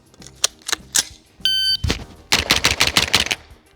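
Several sharp carbine shots with expanding-bullet cartridges ring out in an uneven sequence, with a brief electronic beep between the first few shots and a rapid string of louder shots.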